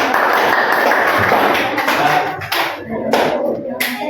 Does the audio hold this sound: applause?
yes